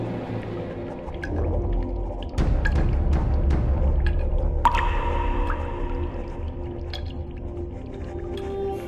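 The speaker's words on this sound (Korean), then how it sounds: "종소리가 아니라 동굴 천장에서 떨어지는 물소리였네" Water dripping from a cave ceiling, scattered bright plinking drops echoing over a low, steady ambient rumble, fairly close and with no talk.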